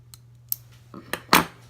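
Several crisp, separate scissor snips trimming a tiny sliver, about half a millimeter, off a small piece, close and fairly quiet with a faint steady hum underneath.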